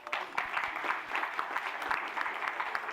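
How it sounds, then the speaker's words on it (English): An audience at a business school event claps in sustained applause, many hands together with a few sharper individual claps standing out. "Can you all clap for them"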